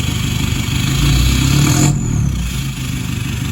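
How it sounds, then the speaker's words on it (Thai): A modified Isuzu 1.9 pickup truck engine revs up close and its exhaust roars briefly louder, then settles back into a steady throaty idle. "เดี๋ยวกายพาไปฟังเสียงท่อออกท้ายกัน"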